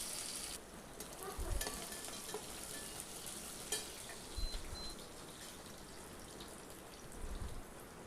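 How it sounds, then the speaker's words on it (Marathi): Onion and green chili sauté in hot oil in a pan for an upma breakfast, giving a soft, steady crackle with faint sizzle and a few light clatters of stirring, quiet and close. "मिरची टाकल्यानंतर ना छान असं परतून घ्यायचं थोडंसं 1 मिनिटासाठी"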